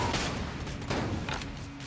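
Rapid gunfire and booming explosions from the Mahoguny gun in the video game Enter the Gungeon, a dense continuous fusillade with repeated impacts throughout.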